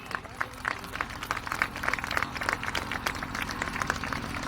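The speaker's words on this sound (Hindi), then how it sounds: "ताली से अभिवादन करें।" An audience at a political rally in Kalyanpur, Munger, applauds, with steady crowd clapping in a dense patter of many hands that holds throughout at moderate loudness.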